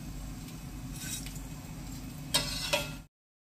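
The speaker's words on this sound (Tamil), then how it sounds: "எல்லா மாவையும் போடும் போதே ஒரு கரகரன்னு சவுண்டு தெரியறது பாருங்க" Omapodi dough frying in hot oil, a continuous crackling sizzle with a couple of brief louder pops near the end before it stops abruptly.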